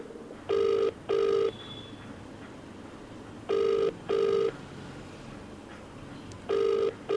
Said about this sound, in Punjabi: ਅਗਰ ਇਹ ਦੁਬਾਰਾ ਇੱਕ ਚੌਥਾ ਫੋਨ ਮਿਲਾਨ ਲੱਗਾ ਵਾਂ